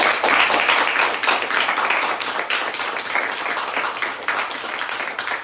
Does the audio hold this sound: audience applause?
yes